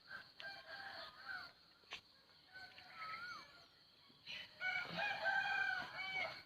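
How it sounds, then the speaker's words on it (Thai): A rooster crows, its call rising and falling, with another crow and clucking fowl nearby, fairly faint against a quiet morning village backdrop in Isan, Thailand. "เสียงไก่ขันเนาะ"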